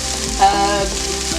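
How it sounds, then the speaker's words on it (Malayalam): Honey-glazed chicken with sesame seeds fries in a pan, giving a steady, loud close sizzle with a light scrape of stirring partway through. "ഞാനിത് ജസ്റ്റ് ഒന്ന് ഇളക്കി കൊടുക്കുന്നു"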